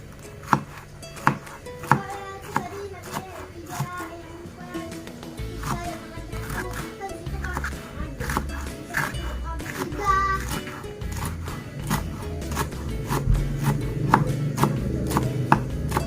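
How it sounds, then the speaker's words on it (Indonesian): Vegetables for Indonesian karedok are chopped on a board, with irregular knife strikes that speed into quick rhythmic chopping, heard close and clear over faint background voices. "Oke, kita ke sayurannya, kita potong-potong dulu ya."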